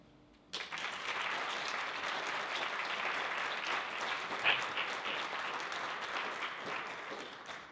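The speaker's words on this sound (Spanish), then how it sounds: "Recibamos con un fuerte aplauso a Juan Antonio Aguilar y su ponencia" Audience applause at a talk on self-managing dissent, starting abruptly after a brief quiet moment and continuing as steady, dense clapping to the end.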